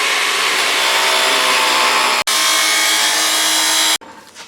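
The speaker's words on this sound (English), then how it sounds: "we already have a chop saw handy, so we're just going to do it that way." A chop saw cuts through tubing for a custom car air intake, a loud, sustained high-pitched whine at close range, briefly interrupted, then ending abruptly as the blade spins down.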